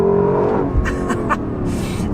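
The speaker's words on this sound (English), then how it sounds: "glorious exhaust." A 2024 Lexus LC 500's exhaust roars loudly and close, holding a deep throaty rev before easing off, with brief crackling bursts as the throttle changes.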